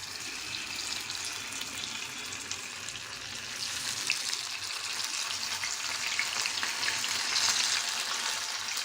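Fish sizzling in hot oil in a kadai, a continuous bright crackling hiss that swells slightly louder partway through, close and steady with no voices.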